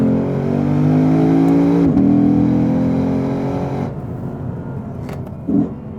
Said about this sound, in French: Elle a le seul V8 atmosphérique de la troupe aujourd'hui, qui est agréable, qui a une sonorité assez décalée, très travaillée.